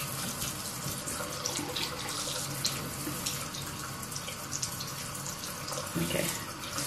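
Cold tap water running steadily into a sink while hands are wetted, a continuous close splashing hiss with no break.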